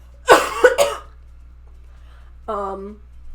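Two quick harsh coughs close to the microphone, followed a moment later by a short throat-clearing sound.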